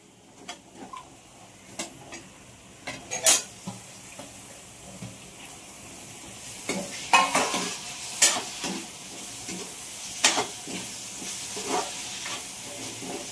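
A spoon stirs and sautés a spice masala with tomato and onion in a pan, giving repeated sharp clacks and scrapes against the metal in uneven bursts over a faint, low sizzle.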